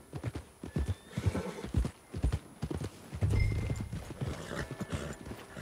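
Horse hooves clip-clopping steadily in the Red Dead Redemption 2 video game, close and loud, with a horse whinnying partway through.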